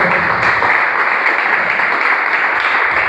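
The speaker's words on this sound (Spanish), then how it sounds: "Así que apláudele con ganas" A church congregation applauding loudly and enthusiastically, a thick, sustained roar of clapping that holds steady from start to finish.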